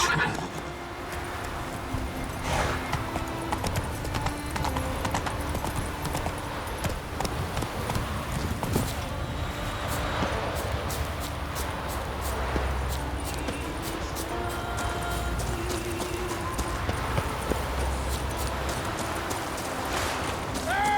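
Geralt's horse Roach trotting in The Witcher 3: Wild Hunt, steady rhythmic clip-clop of hooves with occasional snorts and whinnies over game music and ambience, a voice speaking briefly.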